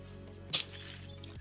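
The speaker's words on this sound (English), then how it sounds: "And then we can also break this glass." A glass block shatters in the Minecraft video game: one sharp, bright crash that rings briefly and fades out over a faint steady background hum.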